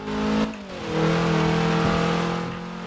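A Scirocco race car engine revs and shifts in Forza Motorsport 7 during a wet, rainy race, with a sustained loud drone that dips briefly and climbs again.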